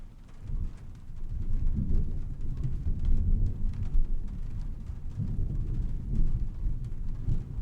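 Steady rain with low rumbling thunder rolling through in the video game Trüberbrook, a continuous dense wash of sound with swells of deeper rumble, no voices.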